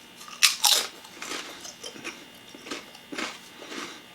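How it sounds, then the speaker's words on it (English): Crisp crunching of Kettle Brand pepperoncini kettle-cooked potato chips, several loud bites up close followed by quieter chewing crunches. "they're very crunchy too because kettle cooked."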